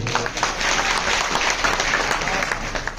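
A festival audience at a religious gathering gives sustained, dense applause from many hands to welcome honoured guests, continuing evenly throughout with a faint crowd murmur underneath.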